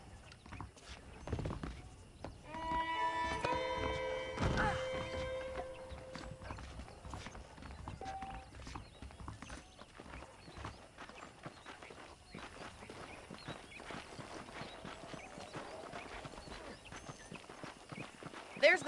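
Horse hooves clip-clop steadily alongside a loud whinny in Red Dead Redemption, with the neigh standing out early and the footfalls carrying on at moderate volume over faint ambient game sound.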